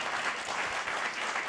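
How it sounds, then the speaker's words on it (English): Brief burst of audience applause on a Broadway radio broadcast about CATS: The Jellicle Ball, a dense wash of clapping heard for a second and a half, steady and moderately loud. "Yes, clap for that."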